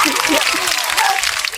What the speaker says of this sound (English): yeah, clap for yourself there.